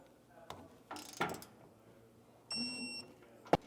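Wrench tightening bolts on a Hellwig adjustable rear anti-sway bar on a 2018 Ford, with a few scattered metallic clicks and ratcheting bursts and a sharp clank at the end, fairly faint with no talking.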